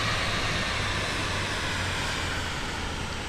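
Cirrus Vision Jet in Microsoft Flight Simulator 2024, a steady broadband jet engine roar with a low hum underneath, constant and even throughout, no voices.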